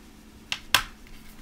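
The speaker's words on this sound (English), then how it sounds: "I snip this off because I don't want" Scissors snipping off mono thread while tying glass shrimp flies: two quick, crisp clicks close together, near and fairly quiet over a faint background hum.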